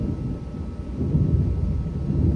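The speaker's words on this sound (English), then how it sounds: "I'm outside, so y'all hear like thunder." Low, rumbling thunder rolls outdoors, a continuous deep roar that swells slightly toward the end, with no talk over it.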